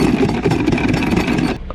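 A sailboat's engine runs loudly and steadily at close range with a rough, churning drone, then cuts off abruptly near the end.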